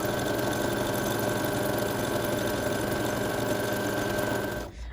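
A sewing machine chain-stitches paper pillow pouches for candies, running in one continuous even whirring hum that stops abruptly at the end.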